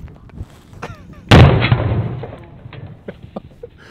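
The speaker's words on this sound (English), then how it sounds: "This is gonna be the 50 AE versus watermelon." A single loud, sharp gunshot from a .50 AE Desert Eagle fired into a watermelon outdoors, a close blast with a thumping impact and a short rumbling decay, preceded and followed by faint clicks and background noise.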